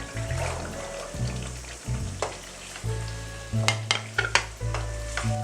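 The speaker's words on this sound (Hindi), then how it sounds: "अब हम चनों की बहुत अच्छी तरह भुनाई करेंगे" Boiled, salted chickpeas roast in a hot pan with a steady sizzle, broken up by repeated scraping stirs, loud and close.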